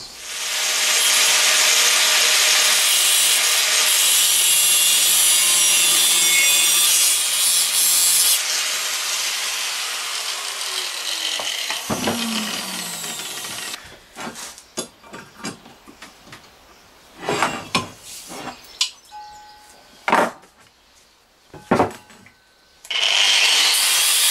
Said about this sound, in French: Maintenant, je vais le couper ici en deux.